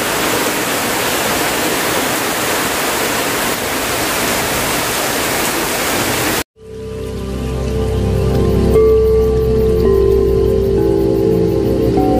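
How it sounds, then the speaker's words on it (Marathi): Heavy monsoon rain pours down in the Konkan region, a dense, loud, steady hiss. It lasts about six seconds, then cuts abruptly to a quieter indoor scene. "कोकणात आत्ता खूप मुसळधार असा पाऊस पडतो आहे तुम्ही बघू शकता"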